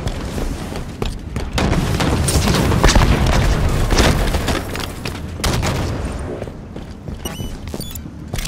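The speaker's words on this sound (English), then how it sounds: "Outside, throwing a grenade." A grenade explosion in Halo 5 Guardians Ranked Slayer multiplayer lands as a loud, sustained boom and roar, blended with surrounding gunfire and footsteps, before the din tapers off.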